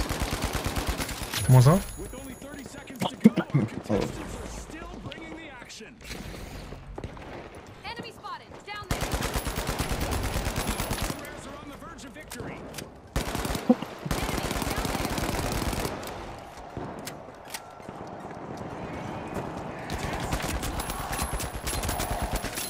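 Gunfire in the online shooter The Finals: loud, sustained machine-gun bursts that start and stop through a hectic fight, with players talking over the shooting.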